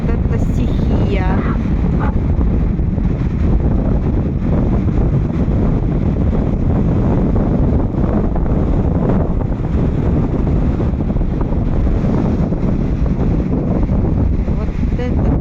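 Huge storm waves crash on the Black Sea shore at Anapa while strong wind buffets the microphone, a loud, continuous roar of surf and gusts with no break.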